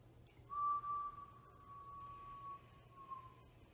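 A single sustained whistle blown as a timing cue in a restorative energy exercise routine holds one steady pitch for about three seconds, clear and fairly quiet over a low room hum.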